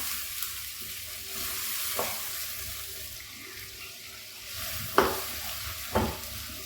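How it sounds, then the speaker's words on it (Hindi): Minced keema sautés quietly in a pan for a stuffed bitter gourd dish, with a soft sizzle broken by a few sharp spoon scrapes and knocks. "थोड़ा इसको भून लेना।"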